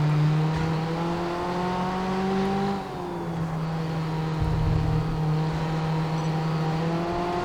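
Race car engine in the Grid Autosport driving game, a strong sustained whine that drops as the driver lifts off, then climbs again under acceleration, loud and continuous with no talk.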